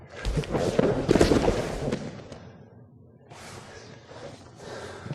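A hip-loaded twisting clinch takedown lands with a heavy body thump on a mat, preceded by scuffling, grunting breaths and a whoosh of movement, close and loud, then fading to quieter shuffling.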